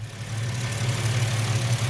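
Ford Ranger/Explorer 4.0L engine idling while warming up after a new thermostat install, a steady low rumbling idle heard close and continuous.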